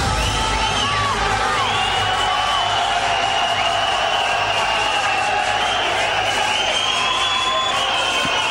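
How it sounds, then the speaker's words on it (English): A boxing arena crowd in Manchester cheering on the boxer Rick, a loud continuous roar of voices with shouts and whoops rising over it throughout, with faint commentary speech mixed in. "as we can hear the crowd absolutely getting behind Rick"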